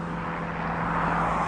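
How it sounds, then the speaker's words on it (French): A small propeller aircraft from the Belgian Fly School drones overhead, a steady engine hum with a strong low tone, moderately distant and slightly growing louder. "Alors c'est un avion du BFS, Belgian Fly School, je pense."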